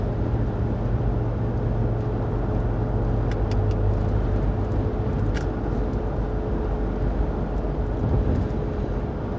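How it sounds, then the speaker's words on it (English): Highway traffic passes in a constant, heavy rumble, with a couple of brief higher-pitched tones rising out of the steady road noise partway through. "There's actually a lot of traffic out here today"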